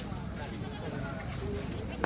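A goat bleats faintly amid a noisy crowd at a weekly goat market in Dhule, India, with people talking all around and general market bustle.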